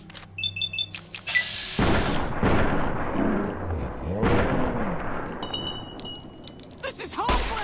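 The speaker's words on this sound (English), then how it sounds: "Maybe I'll just use my pistol on this guy." Pistol gunfire in Fallout: New Vegas, set in the Mojave: a series of loud, sharp bursts and booms with dense in-game action noise. Brief voices come and go around the shots.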